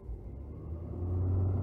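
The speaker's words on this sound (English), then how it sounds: "Oh, a lot of tire spin." A 2020 Ford F-250 Tremor pickup brake-torquing with its tires spinning, a low engine rumble that swells and steadies into a sustained droning tone, fairly quiet and without talk.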